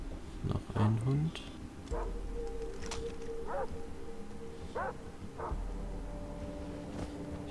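Dogs barking and yipping in Far Cry 3, several short barks spaced across the clip at moderate distance, with whimpers and game ambience around them.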